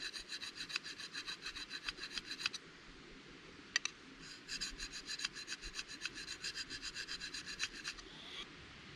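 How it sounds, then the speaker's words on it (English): Scandi grind bushcraft chopper knife edge drawn repeatedly across a sharpening stone, giving fast rhythmic rasping strokes, close and steady, with a short pause and a click midway before the strokes resume. "So this is how I sharpen it."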